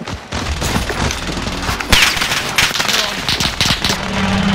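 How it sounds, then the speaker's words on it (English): Video game firefight on the Caldera map with rapid bursts of gunfire and sharp impacts, loud and dense throughout with a steady rumble of battle underneath. "Under fire here."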